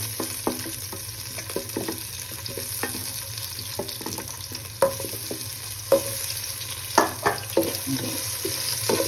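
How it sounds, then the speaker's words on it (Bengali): Potatoes frying in oil in a kadai, a continuous sizzle broken by repeated sharp scrapes and taps of a spatula stirring the pieces, no talking. "লাল লাল করে ভাজবো।"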